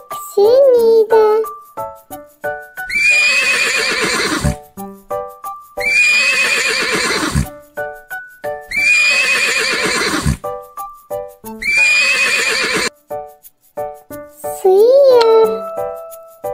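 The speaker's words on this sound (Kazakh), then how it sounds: "Жылқы кісенейді." A horse neighs loudly and close several times in a row, each whinny a shrill descending call, separated by short pauses with faint tinkling and clip-clop sounds between them.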